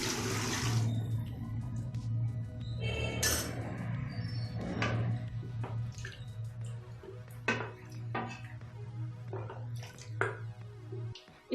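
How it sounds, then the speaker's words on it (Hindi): Water poured into a pot of mutton karahi cooking in a home kitchen, a steady splashing pour under a constant low hum, followed by scattered clinks and sharp taps. "अब मैं इसमें पानी ऐड करने लगी हूँ।"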